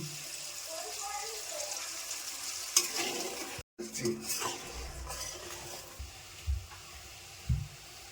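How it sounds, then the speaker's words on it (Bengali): Hilsa fish curry gravy, made with water, turmeric, chilli powder and salt, bubbles steadily in a pot, with a spoon stirring and scraping now and then and a few louder knocks near the end. "ঝোলটা আমার ভালোভাবে ফুটে গেছে"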